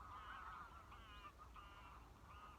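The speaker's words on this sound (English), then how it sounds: "Can you hear the ducks?" Ducks call outdoors in a series of faint, distant honking quacks, roughly four or five short bursts over a low rumbling ambient background with no talking.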